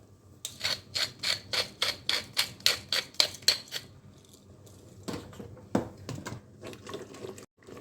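A pepper mill grinds over a cooking pot while veal blanquette is being seasoned, giving a run of about a dozen quick, regular crunching twists, followed by softer scattered clicks and kitchen handling noises.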